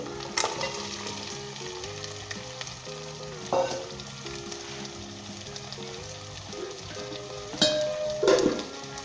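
Mutton sizzles and crackles steadily in a hot pan while being fried for nihari, with occasional louder clanks and scrapes from stirring, and soft background music underneath.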